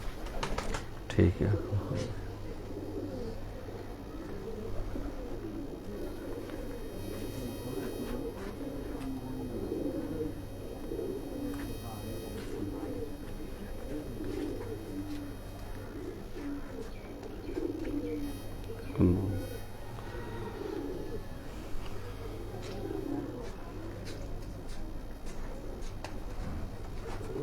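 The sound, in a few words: pigeons cooing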